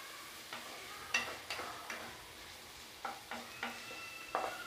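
Onions sautéing in a pan for stuffed mirchi bajji filling: a soft steady sizzle with a series of light, irregular taps and scrapes of a spoon stirring, close and quiet.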